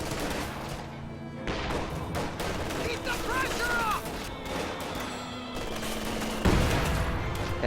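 Heavy mortars fire in a video game battle, with loud booming blasts and crackling gunfire layered over a busy wash of game noise.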